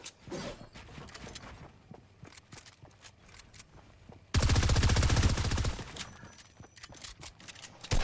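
Gunfire in Fortnite: scattered sharp shots and footstep-like clicks, then a loud, tightly spaced automatic burst lasting about a second and a half, close and dominant, trailing back into sparse shots.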